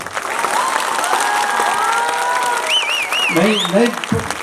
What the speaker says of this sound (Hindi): आपकी तालियों से पता चलेगा कि आज का प्रोग्राम आपको कैसा लगा।